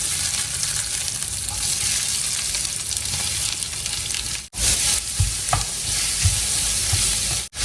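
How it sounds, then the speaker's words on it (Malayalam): Two chopped onions hiss and crackle in hot coconut oil in a pan, a loud, continuous close sizzle with occasional stirring scrapes and a brief pause near the end. "ഈ സമയത്ത് ഞാൻ ആദ്യം ഇവിടെ അരിഞ്ഞു വെച്ചിരുന്ന സവാള രണ്ടെണ്ണ ഇതിലേക്ക് ഇട്ട് കൊടുക്കുകയാണ്"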